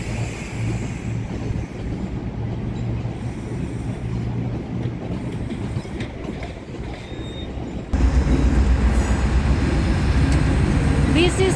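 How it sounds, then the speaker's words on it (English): A GO Transit commuter train leaving Union Station in Toronto, a loud continuous rumble of rail traffic that grows heavier partway through, with a person talking over it. "Another GO train leaving Union Station again,"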